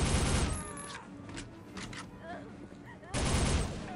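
Loud bursts of rapid gunfire in the video game Soldier of Fortune open and close the moment, with quieter scattered shots and clatter in between.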